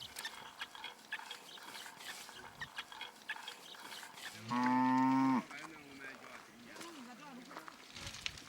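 A single loud, drawn-out moo from cattle kept by Himba herders in the Namibian desert, rising over a faint outdoor background with soft scattered sounds before and after.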